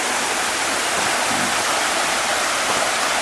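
Steady rushing water from a clear stream near an emerald pool in Krabi, a continuous broadband hiss with no voices or other sounds over it.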